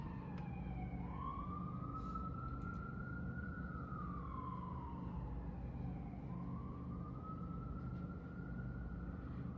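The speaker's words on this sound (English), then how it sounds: "I apologize for emergency vehicle sounds." Emergency vehicle siren wailing along a residential city street, its pitch sweeping up and down in long slow cycles, loud and steady over constant low traffic rumble throughout.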